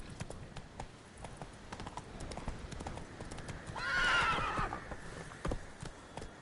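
A horse in The Witcher III trots with soft repeated clip-clop hoofbeats, then lets out a clear, fairly close whinny midway before the hooves continue.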